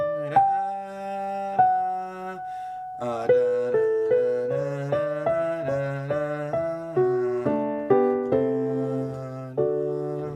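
A single piano melody from Erik Satie's Gymnopédie No. 1, played slowly by the right hand, one note at a time, each note struck clearly and ringing out before the next, with no voices.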